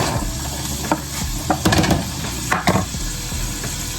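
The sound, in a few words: onions cooking in a pan for salmon marinade sauce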